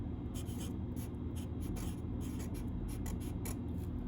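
A marker writing a word on a board during a science lesson about floating and sinking: soft, quick squeaky strokes in short bursts, close and faint, with no talking.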